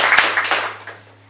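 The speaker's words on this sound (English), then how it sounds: "Please join me in giving him a big round of applause." A brief burst of audience applause, dense clapping that peaks early and then thins and fades over about a second, with a steady low hum underneath.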